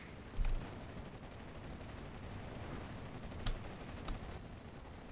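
Flak 36 anti-aircraft guns firing in a World War II strategy video game, a few distant, faint booming shots spaced over a low rumbling battlefield background.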